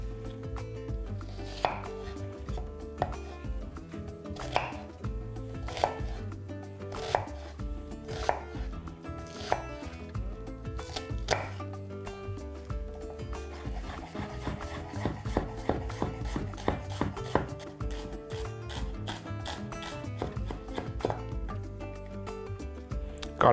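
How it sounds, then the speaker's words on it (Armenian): A knife finely chops small red onions on a board: a slow series of distinct, close thuds that speeds into a rapid, dense chopping run in the second half, with no talking. "Մանր կտրատում ենք։"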